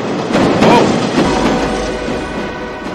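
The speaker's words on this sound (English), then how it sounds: "Oh, it's a train." A train rumbles past in a Japanese horror video game set near a train station, a steady loud rolling roar with faint rail clatter that swells briefly then holds.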